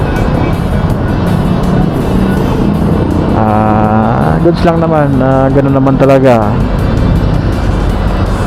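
Busy afternoon rush-hour road traffic in Cubao near Araneta, with a steady roar of vehicles and one engine audibly rising and falling in pitch as it passes close by, heard under continuous talking.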